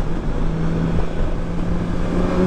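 A 2020 BMW S1000XR motorcycle engine drones steadily with a continuous mid-low hum and wind rush, a constant level throughout rather than a distinct surge.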